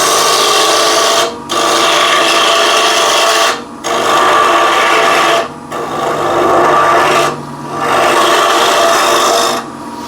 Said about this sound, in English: I'll have a spindle gouge here and just make a quick little plate or something in real time